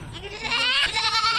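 A large-sized goat bleats loudly and close by in a wavering, continuous call, with other livestock noise faintly behind.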